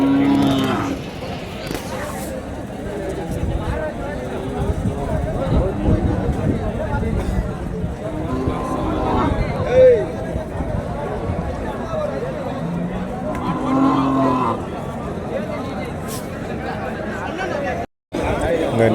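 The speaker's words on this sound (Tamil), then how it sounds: "எல்லாமே காங்காய மாடுங்க" Kangayam cattle moo a few times amid the constant chatter of a busy native livestock market, with the low calls rising over the crowd's talk.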